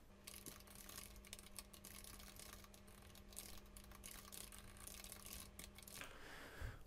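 A message is typed on a computer keyboard, producing a quiet, continuous run of light key clicks and taps with uneven pacing and a short pause near the end.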